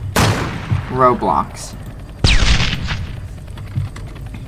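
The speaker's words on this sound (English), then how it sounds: "it looks like main base is getting sniped by somebody" Sniper gunfire in the Roblox video game: sharp, loud game gunshot cracks with a decaying tail, heard alongside a person talking.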